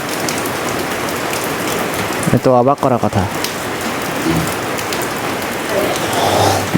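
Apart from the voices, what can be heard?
rain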